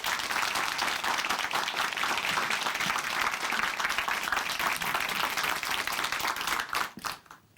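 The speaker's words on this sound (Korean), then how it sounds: "박수로 맞이해주세요" Sustained, dense applause from a church audience welcoming a young man to the stage, steady and full for several seconds before tapering off quickly with a few last claps.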